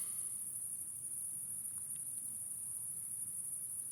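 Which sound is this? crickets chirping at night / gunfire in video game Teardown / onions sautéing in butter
crickets chirping at night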